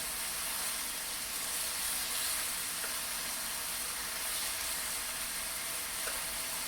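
Cabbage and chicken stir fry sizzles steadily in a pan, a dense unbroken hiss with faint scattered crackles, close and constant throughout.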